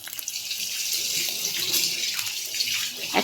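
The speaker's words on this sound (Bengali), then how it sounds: "আর মাছের ডিম তেলের মধ্যে দিলেই চারদিকে ছিটাতে শুরু করে তো এইভাবে করে আমি মাছের ডিমের বড়াগুলো ভেজে নেব" Fish roe fritters frying in hot oil, a dense continuous hiss and sizzle with scattered crackles and spatters, close and steady throughout.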